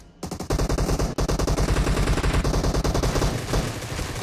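Rapid automatic gunfire in a team shooter video game, loud and close, a fast continuous burst of shots with a brief break near the start, no talking over it.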